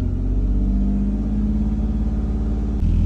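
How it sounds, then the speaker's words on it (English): A car engine revving under throttle while driving, a steady loud rumbling drone that climbs slightly in pitch before a brief shift near the end. "See if we hit the gas a little bit, we can make the temperature increase faster."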